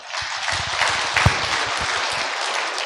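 Loud, dense applause from a lecture audience welcoming a speaker at a Korean religious gathering, steady continuous clapping with a few sharper claps, no talking.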